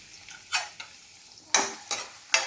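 Chopped onion and garlic sizzle softly in a hot pan while a utensil stirs them, producing several scraping bursts at irregular intervals.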